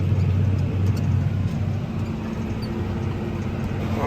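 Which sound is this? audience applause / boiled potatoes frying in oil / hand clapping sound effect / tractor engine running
tractor engine running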